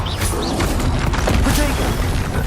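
Confringo blasting spell explosion in the Hogwarts Legacy video game, a dense, loud burst of crashing and booming impacts filling the whole clip with steady noisy energy.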